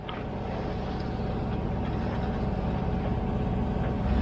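Low steady drone of a sailboat's engine running at anchor-bound cruising pace in hazy Baja California waters, a constant rumble that swells slightly louder toward the end, with no talk.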